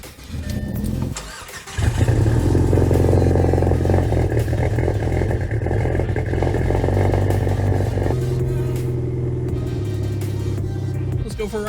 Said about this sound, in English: At least you get to hear the cold start.